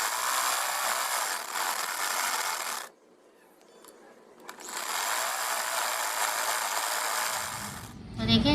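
A sewing machine runs in two long bursts while stitching fabric strips for a neck design, a steady close rasping whir broken by a short quiet pause before the second run.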